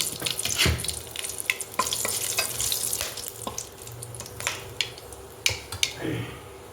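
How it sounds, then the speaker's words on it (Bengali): Bay leaf, cloves and cardamom spit and crackle in hot oil for a spice tempering, a close sizzle with sharp pops and a few utensil clicks that eases off toward the end. "এবার একটু ফোড়ন দিচ্ছি তেজপাতা দিলাম আর একটু লবঙ্গ এলাচ রাখা ছিল সেটা দিলাম"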